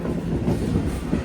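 Inside a MEMU passenger train running into Bengaluru Cantonment, a steady rolling rumble of wheels on track fills the space, with faint rhythmic clatter and no talking.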